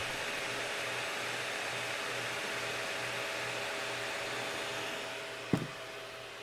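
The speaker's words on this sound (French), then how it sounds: "Là vous allez entendre le bruit du ventilateur." Steady, even whir of an MSI GL73 9SE laptop cooling fan running at high speed under gaming load, constant throughout with a brief faint knock near the end.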